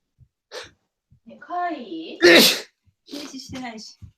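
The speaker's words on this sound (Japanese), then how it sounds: "くしゃみしてる" A person gives a single sharp sneeze in the middle of a casual online meeting, a loud burst set between bits of nearby talk.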